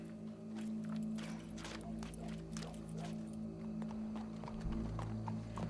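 Horse hooves clip-clop steadily in Red Dead Redemption 2, a continuous run of moderately loud hoof strikes over a low hum of game ambience and background sounds.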